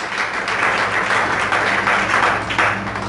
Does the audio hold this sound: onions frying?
no